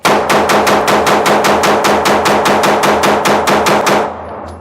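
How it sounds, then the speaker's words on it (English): Rapid gunfire from a Canik Mete MC9 Prime pistol during a break-in session, about twenty loud, evenly spaced shots in one fast, unbroken string that ends abruptly. "I break in my Canik pistols by shooting, I won't say, but mag dumping at least 100 rounds"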